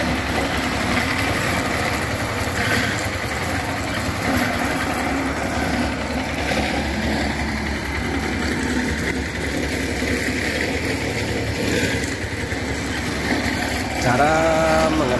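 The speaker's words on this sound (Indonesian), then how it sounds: "Bisa dilihat cara bekerja mesin baby roller silang menggunakan aspal hot mix tipe Sensit spesial halus nomor 1" Baby roller compactor engine running steadily while cross-rolling fine hot mix asphalt, a continuous buzzing drone with no pauses, fairly loud and close throughout.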